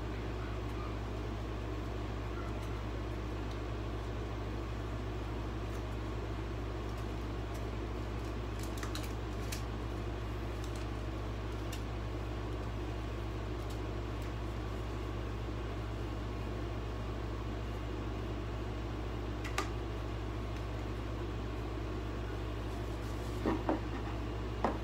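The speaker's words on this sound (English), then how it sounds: "this hair dryer is pretty chunky." An old, chunky blow dryer runs continuously with a steady motor hum and airy rush, constant and fairly close, with a few faint clicks and knocks near the end.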